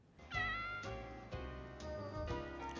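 A cat gives a string of clear, close meows, four or five drawn-out calls in quick succession, faint and alone with no talk.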